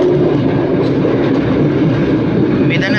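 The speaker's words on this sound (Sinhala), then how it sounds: "ඔන්න දැන් මැනික් කියන 2 ස්ට්‍රෝක් එන්ජිම පහු වුණා." Close, loud rumble of an M4 two-stroke diesel locomotive passing on a Puttalam to Colombo Fort railway line, a steady heavy drone with rolling wheel noise and a brief squeal near the end.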